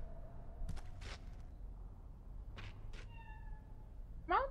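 A cat meows in the video game Cyberpunk 2077, with two or three short meows followed by a louder, rising meow at the end over a quiet low background hum.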